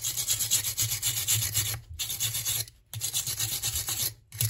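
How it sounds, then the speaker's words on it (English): A welding wire brush scrubs a Zoeller M53 sump pump up close. It makes three harsh, raspy rubbing passes, each split by a short pause. "Welding wire brush here."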